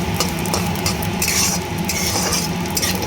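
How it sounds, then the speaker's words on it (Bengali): Cashews and poppy seeds fry in a pan while being stirred for a Bengali restaurant-style chicken chaap, giving a steady close sizzle with scraping and light utensil clinks, no voices. "কাজু আর পোস্তটা ভালো করে লাল করে ভেজে নেব।"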